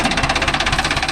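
Mahindra Arjun Novo 605 DI tractor engine running nearby, a loud rapid rhythmic knocking chug at a steady pace.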